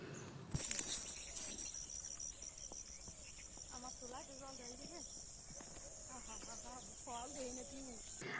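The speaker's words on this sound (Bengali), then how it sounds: "দুপুরে বিকালে সারাক্ষণই কিন্তু পাখি ডাকতেই থাকে" Birds call repeatedly outdoors against a steady high insect-like drone, with a few scattered chirps and some faint background voices.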